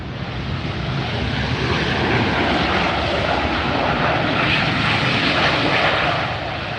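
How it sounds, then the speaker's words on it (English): A JetBlue Airbus A321, flight 387 in from Boston, arrives at Los Angeles airport with a loud, steady jet roar that holds close and even throughout before easing slightly at the end. "This is a JetBlue, just like somebody predicted. Flight 387 and an Airbus 321 coming in from Boston"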